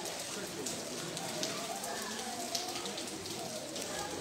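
Heavy rain pours steadily over the old medina of Larache, a dense, continuous hiss close by with scattered louder patters on surfaces throughout.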